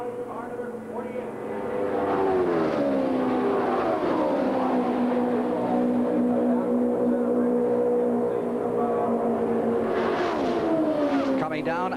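USAC Indy cars from 1978 roar around the Texas oval, their engines a steady loud drone that rises and falls in pitch as they sweep by, with the lead car closing on a lapped car, under continuous race commentary.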